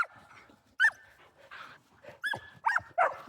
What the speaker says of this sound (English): It's Henny's bark. It's very shrill and hurts your ears, ear piercing